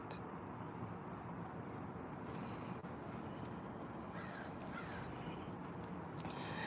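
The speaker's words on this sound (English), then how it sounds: "Yes, the crows, welcome." Several crows caw repeatedly outdoors, with bursts of calls scattered over a steady broadband background rumble, fairly distant and moderate in level.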